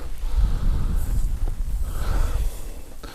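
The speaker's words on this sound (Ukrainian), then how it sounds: "На дворі дощ іде" Rain falling outdoors at a fishing spot where duck is grilled on a barbecue under an umbrella, a steady soft patter with low rumbling background noise and no talk.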